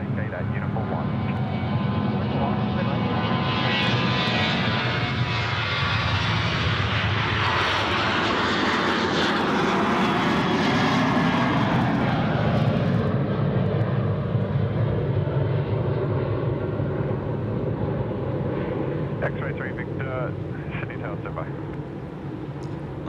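An airliner takes off from runway 34 left at Sydney Airport, its engine roar building strongly, holding loud for several seconds, then slowly easing as it climbs away, with voices over it.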